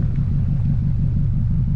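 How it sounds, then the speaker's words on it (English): Subaru STI exhaust rumbling steadily with a deep, low throb, loud and close with no pauses. "You can hear the exhaust."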